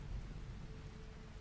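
Steady rain falls in the colony-building game Rimworld, a soft continuous hiss and patter with a low rumble beneath, moderately quiet and unbroken, with no voices.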